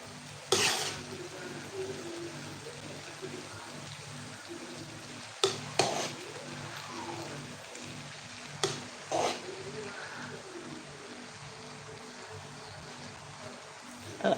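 A spoon scoops and stirs asun jollof rice in a pot over a faint sizzle, with soft scraping and several sharp metallic clanks against the pot's side, close and fairly quiet, with no one talking.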